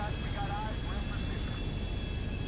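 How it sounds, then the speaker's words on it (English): Airplane engine at takeoff in Grand Theft Auto V, a steady and fairly loud broadband roar that runs without a break for the whole stretch. "But now we have to just, you know, casually fly away in an airplane."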